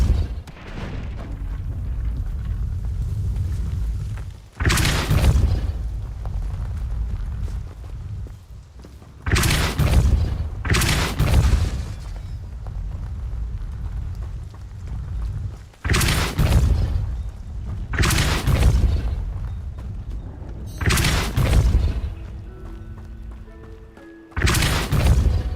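Force spell blasts cast in the video game Hogwarts Legacy, a series of deep booming bursts spaced every few seconds, loud and close, over a rumbling game backdrop.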